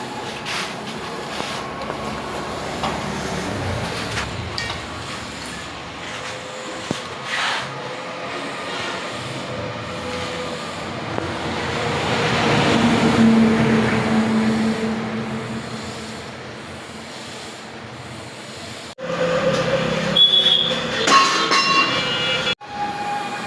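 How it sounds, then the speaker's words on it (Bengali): A paddy threshing machine, a rice huller, runs with a steady mechanical rumble that swells midway, briefly cuts out, then returns louder and rattling near the end. "এটা হলো আমাদের ধান মারা মেশিন।"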